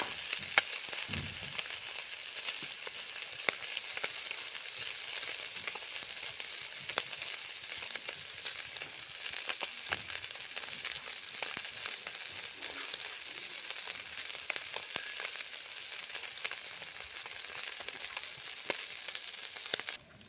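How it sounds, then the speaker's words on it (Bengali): Small puti fish fry in hot oil with a continuous, even sizzle and crackle, close and unbroken, with occasional faint clicks. "এখানে মাছটা ভাজা হচ্ছে"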